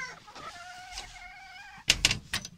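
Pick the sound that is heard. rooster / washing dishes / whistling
rooster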